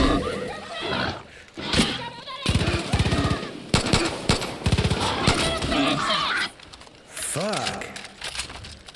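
Close, loud gunfire rattles in bursts in the Far Cry New Dawn video game, with machine-gun fire and single shots over a roaring engine and game clamor. Excited shouting comes in and out between the shots.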